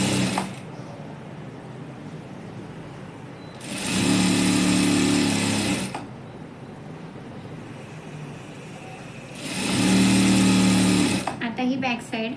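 A sewing machine stitches the back piece of a blouse in two loud, steady whirring runs of about two seconds each. Someone talks between the runs.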